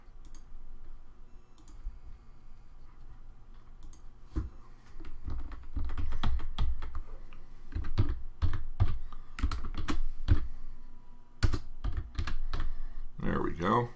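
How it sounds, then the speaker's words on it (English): Computer keyboard typing, bursts of quick clicking keystrokes in irregular clusters, fairly close, with someone talking over parts of it. "Well, not typing very well here."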